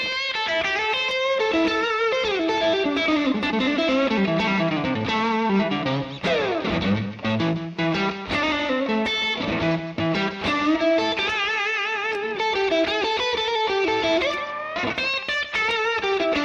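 A Fender Stratocaster electric guitar played through a Tube Screamer overdrive pedal rings out in a continuous run of gritty, sustained notes and bends, loud and close, with no talking.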